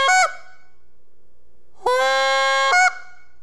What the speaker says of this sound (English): Now if you want to make a solid honk type sound,